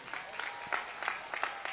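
Audience clapping at a spiritual gathering, scattered and rhythmic, with bursts of hands landing roughly in unison several times a second, moderately loud and fairly close.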